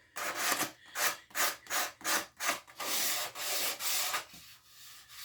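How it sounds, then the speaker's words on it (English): Hand sanding on a wooden handmade gift: a run of about eight rhythmic back-and-forth rubbing strokes, then longer continuous sanding passes, close and clear with no talk. "when you're hand sanding, that gives you time with your project"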